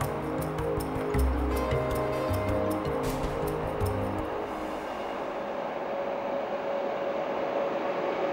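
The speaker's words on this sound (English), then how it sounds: "the Stockholm-Narvik overnight train pauses in Kiruna station" The Stockholm-Narvik overnight train at Kiruna station rumbles with a deep, rhythmic rolling and clatter over the first few seconds, then fades to a steady hum and hiss.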